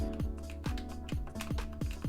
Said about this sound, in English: I have no idea if you can hear my button clicking, but I'm mashing my controller